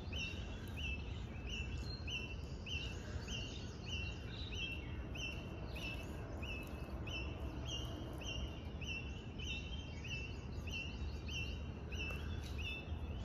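Morning birdsong outdoors beside mango trees in a residential society: repeated bright chirps and calls at a steady, moderate distance, layered over a constant low outdoor hum for the whole stretch.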